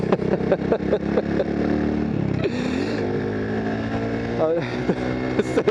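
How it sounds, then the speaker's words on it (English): A 110cc motorcycle engine buzzes loudly and steadily, its pitch rising and falling as the throttle is blipped and held, with a voice briefly audible over it. "greatest sound you can pull out of a 110cc engine."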